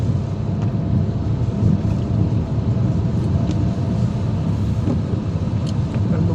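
A UK-registered car driving along a valley road in rural France, heard as a continuous low road rumble and tyre roar from inside the cabin, steady and fairly loud throughout.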